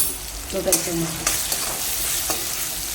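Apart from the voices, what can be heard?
turmeric and coriander-cumin powder sizzling in hot oil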